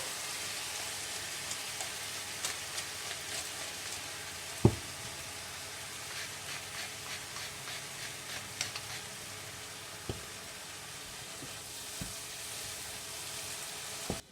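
Taco rice meat fries with seasoning in a pan, a steady soft sizzle broken by occasional sharp knocks and scrapes of a utensil stirring against the pan.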